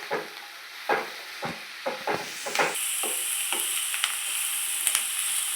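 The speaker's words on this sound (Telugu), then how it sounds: "ఇది కూడా కొంచెం సేపు వేగాలండి." Carrots frying in a hot pan for egg fried rice, a steady close sizzle with repeated scraping strokes of a spatula stirring them, no talk.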